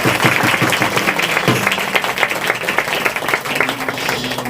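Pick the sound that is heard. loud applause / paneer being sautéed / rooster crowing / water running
loud applause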